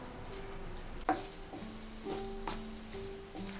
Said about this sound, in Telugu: నెయ్యి హీట్ అయిన తర్వాత మనం సన్నగా కట్ చేసి పెట్టుకున్నాం కదా కొబ్బరి ముక్కలు వేసుకోవాలండి